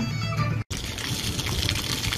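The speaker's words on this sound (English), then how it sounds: "There's a splash pad with this globe out here by the Awati Battle." Water gushes and splashes steadily at a theme park splash pad with a globe, near the Awati Battle splash ride, a soft continuous spray with a brief dropout.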